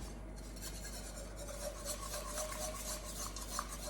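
A spoon scrapes steadily around a pot of chicken and bacon mac and cheese as milk is worked in over low heat, giving a quiet, continuous rasping swirl with no voices.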